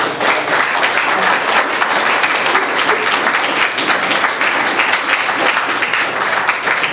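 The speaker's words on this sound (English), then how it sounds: "now let's give them a round of applause" Audience at a school board work session gives a round of applause, dense steady clapping from a room full of people, loud and continuous for the whole stretch.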